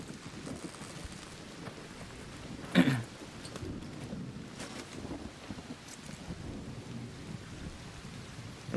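Thunderstorm in the ARC Raiders video game, steady rain and wind hissing throughout with a sharp, loud lightning crack near three seconds, low rumbling thunder rolling underneath.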